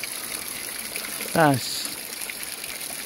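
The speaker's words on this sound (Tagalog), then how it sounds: "Kung mapapansin nyo, may tubig na bumabaksak." Water falls and trickles in a clear, cold stream as a constant close rushing hiss, with a voice speaking briefly over it.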